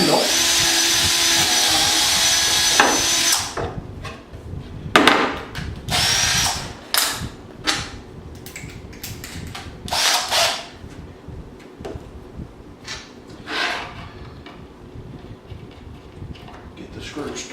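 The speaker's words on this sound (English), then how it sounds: "And then I'll drill the screw hole" A power drill bores a screw hole for a wooden handle on a square-foot gardening planting guide, starting with a sustained loud whir, then several short bursts with pauses between and quieter handling noise.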